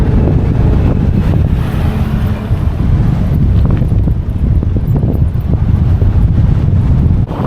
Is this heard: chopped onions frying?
no